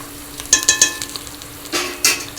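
Ivy gourd pieces and onions fry in a pan while a spoon stirs them, giving a few sharp scraping clacks over a soft sizzle, close and clear.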